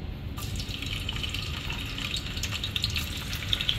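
Unpeeled garlic cloves fry in a pan for pancit canton, giving a steady, close sizzle with light crackles and no talking.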